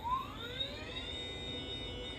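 A small electric motor in a Milwaukee M18 cordless stick pump whirs to life, its high whine rising in pitch and then holding steady, with no voices.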